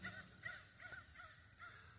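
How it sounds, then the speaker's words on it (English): Several crows caw repeatedly in the distance, faint harsh calls in quick succession over a quiet outdoor background. "only ones making noise are our crows."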